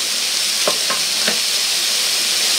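Liver and onions sizzling steadily in a hot pan, loud and close, with a few brief scrapes as the onions are folded and stirred.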